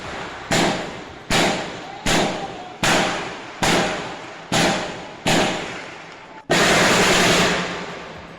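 A series of sharp, loud bangs at roughly regular intervals, each decaying with an echo, ending in a longer sustained blast.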